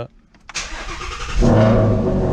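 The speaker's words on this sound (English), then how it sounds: "it's now time to start up the car" A Ford Mustang GT350 engine cranks briefly after a spark plug replacement, then catches and settles into a loud, steady idle close by.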